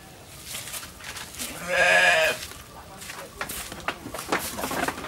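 A goat bleats once, loud and close, on a farm where it is being offered fermented banana-stem livestock feed. A person talks around it, with scattered small noises before and after.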